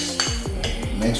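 Spoon clinking and scraping against a bowl while baked potato ingredients are mixed, with several rhythmic knocks and stirs close by, no talking.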